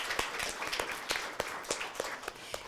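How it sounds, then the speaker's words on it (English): A school audience claps for their own exhibit, with scattered hands making irregular bursts that rise and fade, moderately loud and close, with no talking. "you guys can clap"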